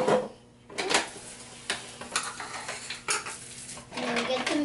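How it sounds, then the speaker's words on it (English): Ice cubes drop and clatter into a container for a protein shake, several sharp clinks and rattles in close succession with a short quiet gap near the start, no talking. "Then you put the ice in."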